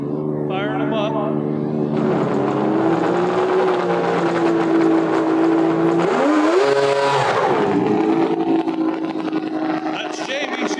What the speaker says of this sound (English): That's Jamie, she just did a small low burnout, pulling up to the staging lights.